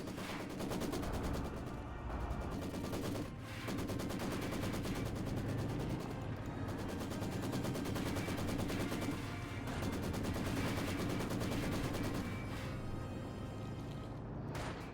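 Machine gun fire in the World War II strategy game Company of Heroes 2 chatters in long, steady rapid-fire streams under a busy battlefield mix, sustained and fairly even in level with faint distant booms.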